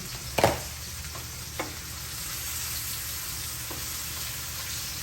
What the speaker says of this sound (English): we just gonna add some butter on top